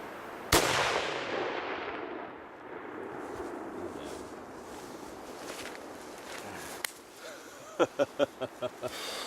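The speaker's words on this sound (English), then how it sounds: "Make sure the bullet's on it. Good. Nice. Nice job, Ron. Yeah. Good shooting. You drilled him" A single sharp rifle shot cracks out during an Alaska grizzly bear hunt, its echo rolling away into a quiet outdoor space, followed later by faint rustling and a few short knocks.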